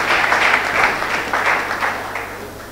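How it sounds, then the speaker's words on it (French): An audience at a French-language sustainable development speaking contest applauding as a candidate takes the stage, a dense burst of clapping that stays full and then slowly thins toward the end. "Sous vos applaudissements s'il vous plaît, pour encourager notre candidat."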